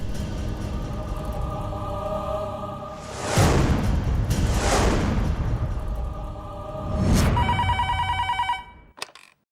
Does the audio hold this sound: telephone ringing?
yes